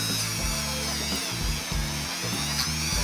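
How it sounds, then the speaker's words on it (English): A Dremel rotary tool with a buffing wheel polishes rusty rods from an old motor, giving a steady close high-pitched whine with a low rumble that dips and surges as pressure changes, with no talk. "we're going to use the buffing wheel on my Dremel"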